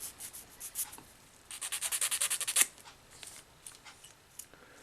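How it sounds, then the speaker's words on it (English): A coarse nail file rasps back and forth over the rough, broken-off edges of hosiery during wall preparation, a steady run of about ten quick strokes with scattered lighter scrapes before and after, close and alone. "We'll get a coarse nail file out here, clean that up a little bit."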